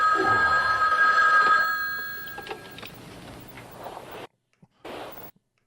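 A telephone rings in a film scene, a steady electronic bell trill with strong harmonic tones for about four seconds before fading, followed by silence and a short muffled burst.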